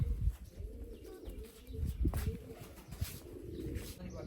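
Soft, low pigeon coos repeat amid a noisy, rustling background as pigeons are bathed with tick medicine, with faint voices and occasional bird chirps nearby.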